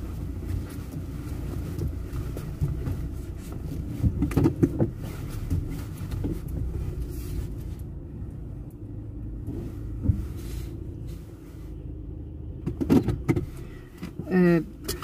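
Car engine rumbling steadily while parking, a low continuous drone from inside the vehicle with a few brief clicks and knocks near the end.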